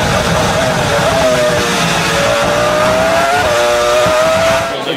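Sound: Formula 1 car onboard engine, Lewis Hamilton's car

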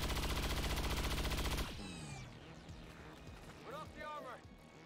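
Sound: gunfire in XCOM 2 video game

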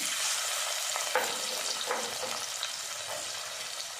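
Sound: onions frying in oil with turmeric and fenugreek powder

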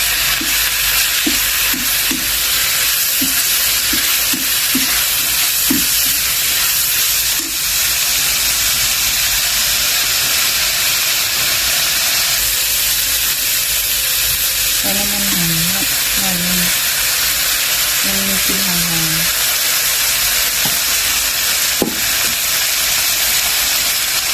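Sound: frying with shallots in a pan

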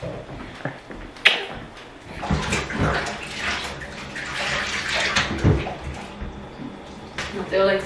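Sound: child splashing in running shower water

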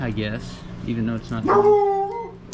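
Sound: dog barking and howling

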